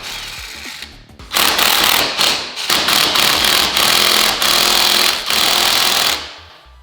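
A power tool loosens the engine bolts on a Honda Grom motorcycle in loud, close bursts of rapid hammering rattle, several in a row with brief pauses between, ending as the tool winds down.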